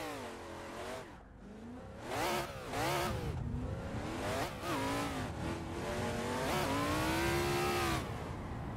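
A BMW E46 driven hard in a racing video game on a Moza wheel, its engine revving up and down in rising sweeps with tire squeal over the gear changes, loud and continuous after a brief lull.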